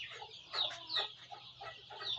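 Chickens clucking in a pen at a small rural duck and chicken yard, several short nearby clucks and squawks in an uneven rhythm, moderately faint with no talking.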